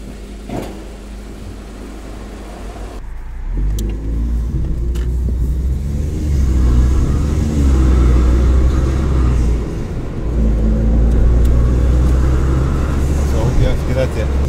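Volkswagen Golf 5 GTI 2.0 with a turbo fault, engine idling with a steady loud rumble that swells as it is revved, nearby, while people talk over it.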